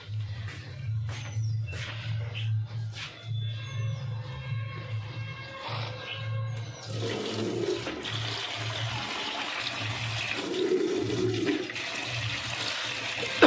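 Water gushes into a bucket, becoming a loud, continuous rushing splash after a quieter stretch with a low hum and scattered clatter, close by with no speech.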